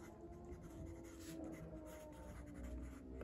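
A Blackwing graphite pencil scratches across Karst stone paper in a notebook, a soft continuous rubbing and scraping that is faint and close, with no voices.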